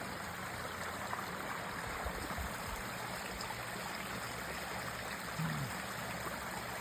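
A backyard water feature on a calm spring evening in Spring Creek, Nevada, trickles and splashes in a steady, even wash, soft and continuous with no talking.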